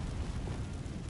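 Confringo blasting spell going off in Hogwarts Legacy, a dense, rumbling low-heavy burst that stays loud and sustained for about a second.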